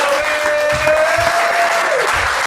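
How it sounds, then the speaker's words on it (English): A crowd at a rap battle league event bursts into loud, sustained clapping and cheering, with a voice speaking over it before the applause cuts off abruptly. "Give him a round of applause"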